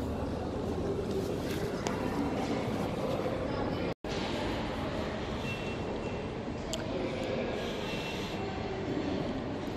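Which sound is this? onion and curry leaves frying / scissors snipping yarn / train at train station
train at train station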